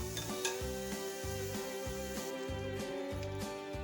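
Vegan French toast cooks quietly in a skillet, a soft steady sizzle under a droning musical background, with faint utensil clinks.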